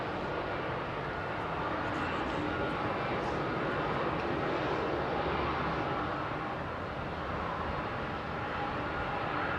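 United jet airliner engines roaring steadily at Heathrow Airport, a loud, continuous broadband rumble and whine that holds for the whole stretch without letup.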